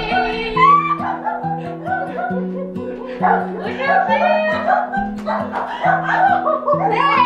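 Small dog yipping and barking repeatedly at close range, bright excited yaps mixed in with happy voices talking and exclaiming over it.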